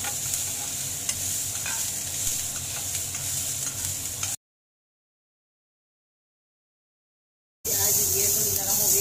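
Capsicum, spring onion greens and green chili stir-frying in a hot pan for a spicy crispy corn dish, a steady close sizzle with stirring scrapes that cuts out abruptly midway and then returns just as loud.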